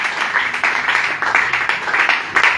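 A church congregation applauding during a worship service, steady dense clapping from many hands that rises and falls slightly without stopping.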